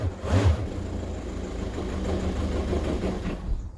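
A VW Golf Plus 1.9 TDI diesel with a 90 bhp engine and five-speed manual gearbox revs briefly, then sinks into a rough, uneven idle as it falters toward stalling. The engine is moderately close, with no talking.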